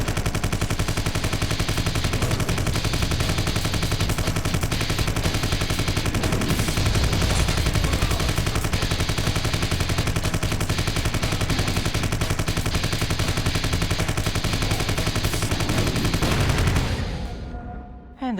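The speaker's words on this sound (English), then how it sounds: "Observe how fucking useless the M16 can be." Sustained automatic M16 rifle fire in the video game Vivisector, a dense, continuous rattle of shots that holds loud for most of the stretch and then cuts off near the end, with no talk.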